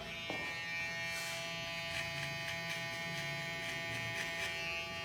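Close electric hair trimmer buzzing steadily as it passes over short hair during a men's clipper fade haircut, a continuous near hum with faint rhythmic strokes and no talk.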